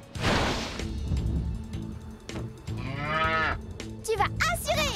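A cartoon cow moos loudly in an animated children's show, a long drawn-out low call with rising harmonic tones near the end, set over a busy background of music and snowy action sounds.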